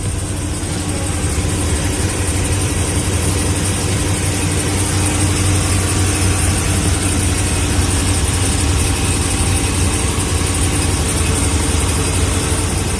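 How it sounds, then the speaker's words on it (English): A 2021 RAM 2500 Mega Cab Limited with a 6.4L HEMI idles steadily for the whole stretch, a loud, even engine drone with a faint high chirp running through it and no voices. "Do you hear this chirping sound?"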